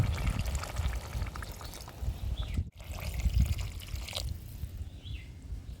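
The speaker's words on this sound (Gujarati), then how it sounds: "હવે આપણે આમાં 3 ગ્લાસ જેટલું પાણી નાખશું" Water poured into a pot of vegetable curry (sadovelu shaak) cooking on the stove, a soft steady trickle and splash that breaks off briefly midway and then resumes, quiet and close with no talking.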